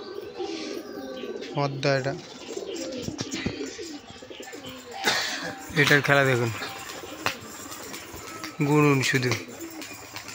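Hand-trained Giribaz pigeons, a male and a female, one wearing small bells on its feet, coo softly in short bursts while someone talks over them.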